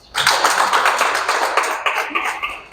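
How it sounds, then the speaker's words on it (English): An audience claps at the opening of an evening wellness talk, a dense steady patter of many hands filling the room, loud and continuous for nearly three seconds. "Clap hands for yourselves."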